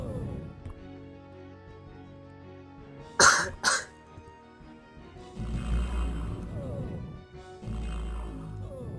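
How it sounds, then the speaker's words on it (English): A person coughs twice in quick succession, sharp and close, during a quiet stretch of computer-game play, with low background sound after. "of course I get a cough the moment I start"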